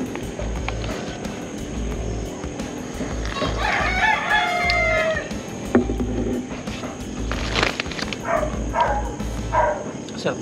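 A rooster crows repeatedly at about 5:30 in the morning, while it is still dark, in the Philippines. The crows are moderately distant and rise over steady background hum, some scattered household clatter and a few voices.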